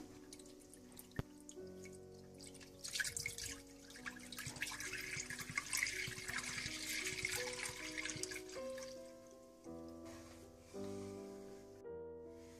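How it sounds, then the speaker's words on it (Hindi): Milk pours into a pot for carrot halwa, a quiet, close stream of liquid with dripping and splashing that lasts several seconds before tapering off. "सबसे पहले आप दूध डाल लें।"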